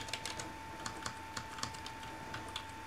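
A USB keyboard connected to a PS2 clicks under a run of irregular, fairly quiet keystrokes, with a steady electronic whine running beneath them.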